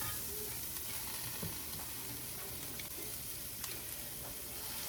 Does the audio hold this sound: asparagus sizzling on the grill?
yes